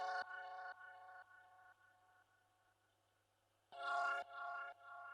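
A sped-up dark vintage synth sample with a phaser plays bright, horn-like sustained chords in short stepped phrases that fade down, then return loud and clear, with no talking over it.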